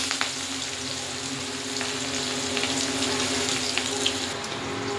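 Black cumin seeds and onion go into hot mustard oil and set off a steady, hissing sizzle that runs on without a break and carries a faint crackle, with no voice over it.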